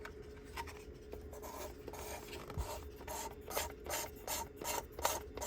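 An HP DesignJet printer's service station scrubs a printhead, a quiet, close, repeated rubbing and rasping with rhythmic strokes over a faint background hum.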